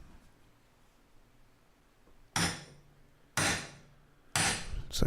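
Three sharp, loud hammer blows, about a second apart, drive a tool into wood while a replica ITG2 dance pad is being built. Each strike rings briefly after a quiet start.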